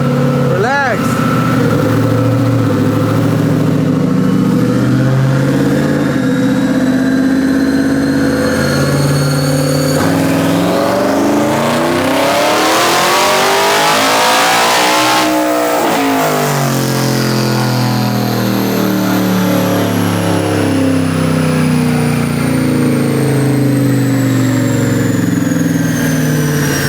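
A twin-turbo Shelby truck with a larger turbo upgrade and a meth kit roars loudly on a dyno, its engine pitch climbing through a long pull and then winding back down, with voices talking over it.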